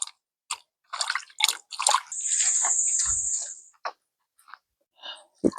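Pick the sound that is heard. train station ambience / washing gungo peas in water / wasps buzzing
washing gungo peas in water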